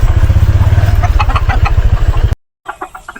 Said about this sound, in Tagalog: Pati yung mga alaga nating manok oh,